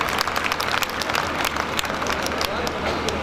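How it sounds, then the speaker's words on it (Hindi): A crowd at a Hindi comic poetry gathering in Behror breaks into loud, dense applause, sustained continuous clapping with some crowd murmur running through it. "एक बार जोरदार ताली बजाओ"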